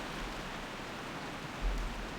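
Heavy rain falls steadily in World of Warcraft, a soft continuous hiss with no clear drops standing out, fairly quiet and heard alone.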